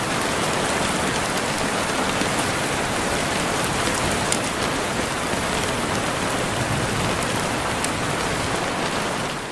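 Heavy rain pours steadily onto an open festival ground, a dense, even hiss of drops on wet surfaces and pooling water that continues unbroken and close throughout, with no voices.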